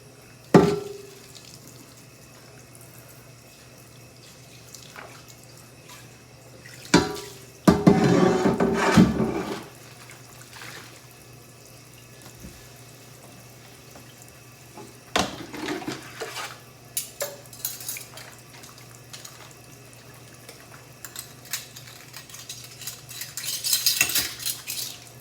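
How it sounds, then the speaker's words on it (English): Cast iron pan scrubbed and rinsed at a sink, with metal scrapes and clatter rising in short bursts between quieter stretches of running water, near and fairly loud at moments. "after I finish washing my cast iron"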